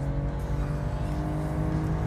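A 2016–2022 Chevrolet Camaro launches at 4,000 RPM: a loud, steady engine drone holds close and strong throughout, rising slightly in pitch near the end.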